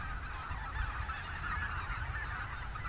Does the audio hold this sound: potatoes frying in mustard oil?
no